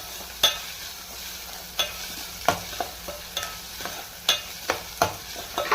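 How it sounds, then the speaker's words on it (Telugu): Ginger garlic paste frying with onions for a dried fish curry, a soft steady sizzle broken by a series of sharp, irregularly spaced stirring scrapes, close up. "ఈ అల్లం వెల్లుల్లి పేస్ట్ కూడా బాగా పచ్చి వాసన పోయే వరకు ఫ్రై చేసుకుందాం."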